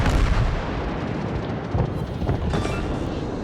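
Naval guns on a destroyer in World of Warships fire rapidly, with heavy booming reports layered into a dense, continuous roar of loud gunfire and explosions.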